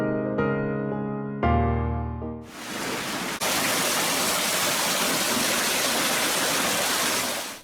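Steady broadband rush of water flowing through a garden channel at the Alhambra in Granada fills most of the clip, loud and continuous, after a brief burst of tonal, musical sound at the start.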